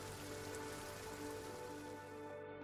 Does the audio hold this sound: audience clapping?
no